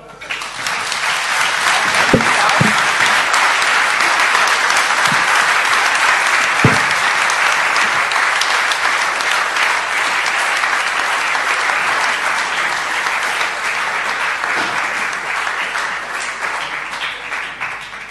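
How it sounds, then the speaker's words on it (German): Sustained audience applause fills a German talk-event hall, loud and steady for the whole stretch, with a few sharper claps standing out early and the clapping thinning slightly toward the end. "euer Applaus noch mal."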